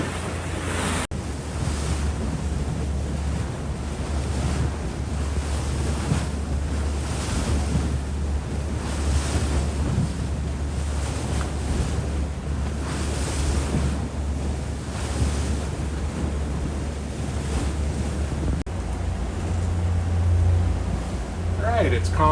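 Ocean waves and gusting wind roar continuously around a boat crossing British Columbia waters on an Inside Passage trip, with heavy wind buffeting on the microphone and rolling surf washing steadily and loudly throughout.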